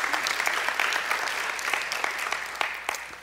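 An audience claps together in an indoor gathering for a spiritual talk, a steady dense wash of hand claps sustained throughout at moderate loudness with no voices over it.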